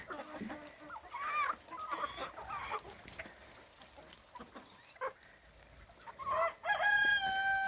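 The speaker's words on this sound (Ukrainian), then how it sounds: "Десь півник співа" A rooster crows a few times in the distance amid village yard ambience, with scattered clucking from chickens including small Cochin bantams, and faint background voices.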